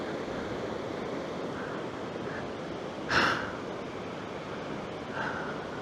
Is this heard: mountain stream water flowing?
yes